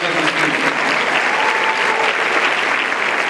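Loud, close applause for Jesus Christ from an evangelical conference crowd after a sermon, a dense unbroken wash of clapping with no speech over it.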